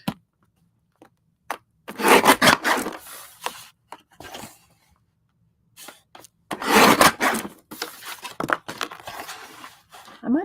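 Masterboard art cards are cut by hand in two main bursts of close, scratchy rasping strokes, each lasting a couple of seconds, with scattered light scrapes and quiet gaps between.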